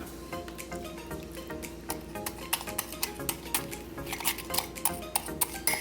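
Four Oreos mashed into a quarter cup of milk in a mug, a rapid run of sharp clinks and taps of a utensil against the ceramic, close and steady, with the strikes growing louder toward the end.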